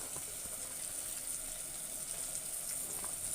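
Green beans tipped into a pan where onion and tomato are sautéing, giving a steady broadband sizzle and hiss that runs evenly throughout, fairly close, with no talking.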